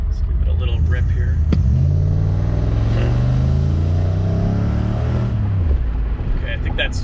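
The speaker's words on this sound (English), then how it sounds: "All right, let's give it a little rip here." An LS-swapped Mercedes turbo diesel car accelerates hard from close range, its engine climbing in a loud, rising roar over several seconds before easing off near the end.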